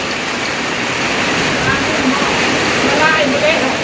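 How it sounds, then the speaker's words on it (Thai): Heavy rain with hail pounding down during a spring storm with strong wind, a dense, steady roar of water and scattered impacts, loud and continuous with a person talking faintly underneath. "ลูกเห็บตกพี่น้องเอ้ย"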